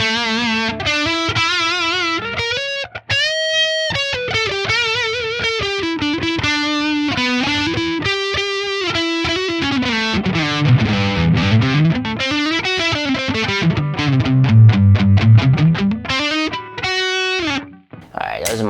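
Distorted electric guitar lead on the neck pickup through an Axe Fx III modelling a Fryette Deliverance amp, played as sustained melodic lines with bends and fast runs, loud and continuous, ending in a short pause.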